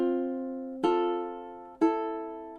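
Ukulele plays two measures of a song: three bright plucked chords or notes, each struck cleanly and left to ring and decay, close and alone.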